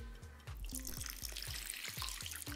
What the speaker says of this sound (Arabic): بعدين هصب عليه مية